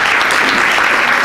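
An audience at an Italian book presentation in a literary cloister claps steadily and loudly, a dense, even wash of applause throughout with no voices over it.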